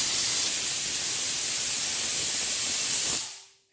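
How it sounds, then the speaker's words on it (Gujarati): A pressure cooker on a village stove vents in one loud, steady hissing whistle of steam that holds for about three seconds, then cuts off and fades away quickly. "હજી તો કુકરનું નામ લીધું ત્યાં તો સીટી વહી ગઈ"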